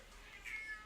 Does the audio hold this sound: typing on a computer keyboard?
no